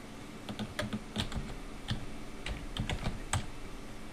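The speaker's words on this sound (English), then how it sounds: "I'm going to make another one here, a new folder" Rapid, uneven keystrokes on a computer keyboard as a new folder is named in Photoshop Elements 8, a close, steady run of clicks lasting about four seconds with no talking.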